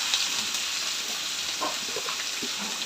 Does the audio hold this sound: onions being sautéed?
yes